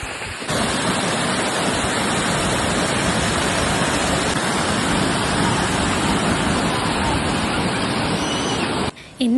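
Waterfall at Fujairah in the UAE, swollen with fresh rainwater, roaring as a loud, steady broadband rush of falling and flowing water that fills the whole stretch with no voices over it.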